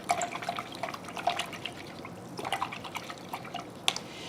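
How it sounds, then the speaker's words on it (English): A paintbrush being rinsed in water, with small drips and light splashes recurring irregularly, close and fairly quiet, and no voices. "So I'm going to rinse out my brush."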